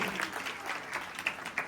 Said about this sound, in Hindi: ये अविनाश कुमार उर्फ मोदी जी, इनके लिए जोरदार तालियों से स्वागत करेंगे।